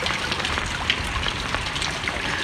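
Heavy rain and wind during flooding in Hue, Vietnam, a dense, steady hiss of rainfall with scattered drops and splashes pattering on surfaces close by.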